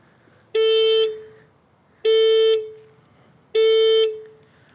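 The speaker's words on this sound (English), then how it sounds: "So it basically honks the horn and flashes the lights" Horn of a 2018 Kia Stinger GT2 set off by the key fob panic button, three identical loud steady honks, each about half a second long with a short fade, evenly spaced and heard up close outdoors.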